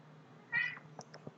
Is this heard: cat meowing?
yes